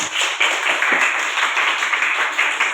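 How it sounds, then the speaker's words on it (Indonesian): Students clap together in a classroom, a brief burst of steady group clapping that stays fairly loud and even throughout, with no talking over it. "Beri tepuk tangan untuk kelompok 4."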